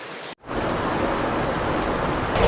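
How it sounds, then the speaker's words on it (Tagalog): Steady rain drums on a tent in a broad, loud hiss after a brief silent gap near the start, holding constant and swelling slightly toward the end, with no voices. "Nag-uumpisa ng umuulan."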